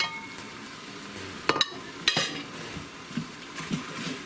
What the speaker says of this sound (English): I want you to give it all a good stir.